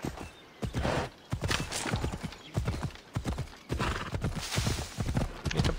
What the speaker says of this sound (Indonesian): Ntar kita manggil kuda kita dulu ya